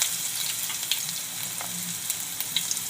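Continuous bright sizzling of ginger-chili paste and cumin frying in hot oil for chole, with scattered crackles and pops throughout, close and steady.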